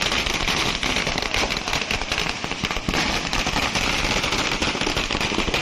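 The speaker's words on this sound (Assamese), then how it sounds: "ফটকা ফুটাই আবতৰীয়া দেৱালী উদযাপন কৰা হৈছে" Dense, continuous crackling bursts of firecrackers set off at a festive Diwali-style celebration, loud and rapid throughout with no pauses and no voices.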